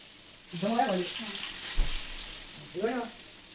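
Spice paste sizzles and crackles in hot oil in short bursts, with stirring noises between them, close and fairly loud.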